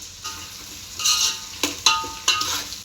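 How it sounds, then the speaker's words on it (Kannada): Onions frying in a pan for a country-style chicken donne biryani, after turmeric powder goes in, stirred with a low sizzle under scraping spoon strokes that come as several short, louder bursts. "ಇವಾಗ ಇದೊಂದು ಸ್ವಲ್ಪ ಚೆನ್ನಾಗಿ ಫ್ರೈ ಮಾಡ್ಕೊಳ್ಳೋಣ. ಬ್ರೌನ್ ಕಲರ್ ಆಗೋವರೆಗೂ ಫ್ರೈ ಮಾಡೋಣ"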